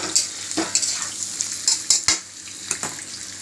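Quiet sizzling of raw mango pieces in a pan with several sharp scraping and stirring clicks of a utensil against metal, close by.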